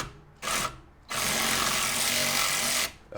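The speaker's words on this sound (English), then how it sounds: "in true monkey wrench fashion, we're going to go for the power tools" A power tool breaks loose the hex bolts on a Mercedes E320 brake rotor, giving a short burst followed by a longer sustained whir, loud and close, with no talking.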